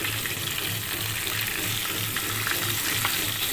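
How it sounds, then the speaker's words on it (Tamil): Marinated tandoori chicken fries in hot oil with a dense, steady sizzle and crackle that fills the whole stretch, close and moderately loud, with no voices. "நீங்கள் எண்ணெயில் பொரிக்கிறீங்க,"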